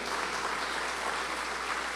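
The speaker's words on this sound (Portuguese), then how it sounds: "Salva de palmas," A studio audience on a church podcast gives a round of applause, a dense, even wash of clapping at steady volume throughout.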